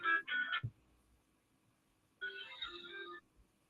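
A phone rings in two electronic bursts, a short one and then a longer one about a second and a half later, quiet and set against a near-silent room.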